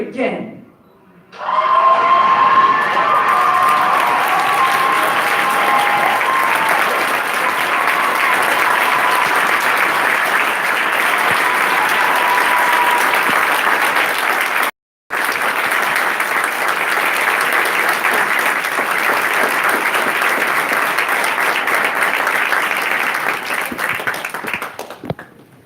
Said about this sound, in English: another round of applause for Trevor Miles